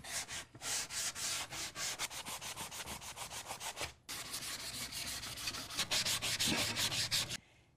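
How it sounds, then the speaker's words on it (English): Light hand sanding along the outside edges of a small wooden sign frame, with steady rhythmic rubbing strokes close up, a brief pause midway, then continuous scraping strokes that stop near the end. "I'm going to do a light sand on the outside edges of this little frame"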